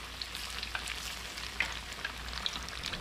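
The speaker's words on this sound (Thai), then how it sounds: "เราจะทอดกล้วยทอดของเรานะครับหรือกล้วยแขกนะครับให้เขาสุกเหลืองกรอบเลยนะครับ" Banana fritters frying in hot oil for a crisp golden finish, giving a steady faint sizzle with small scattered pops and crackles throughout, no voices over it.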